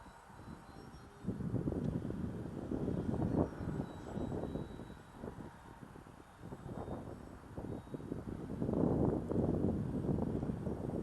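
A HobbyKing 1100mm EPP Sbach 342 RC airplane on a 3S battery flies in strong winter wind, its faint motor whine buried under continuous broadband gusts and buffeting that swell and fade.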